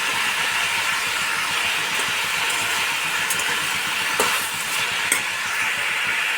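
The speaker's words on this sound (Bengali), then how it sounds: "এবার আস্তে আস্তে আমি কম আঁচে নাড়তে নাড়তে আমার এটা হয়ে যাবে" Pumpkin with chopped green chilli being stirred in a pan over a low flame, giving a steady soft sizzle with a couple of faint scrapes of the spoon.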